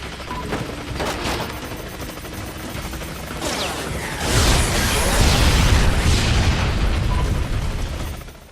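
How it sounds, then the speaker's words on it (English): Explosions in the racing video game Split/Second, a dense rumbling blast that swells and holds loud for several seconds over constant engine and crash noise. "we got the best explosions here"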